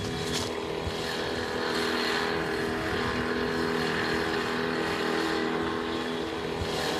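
Two motorboats set off on a river in Yakutia. Their engines drone loud and constant, mixed with rushing water and wind noise.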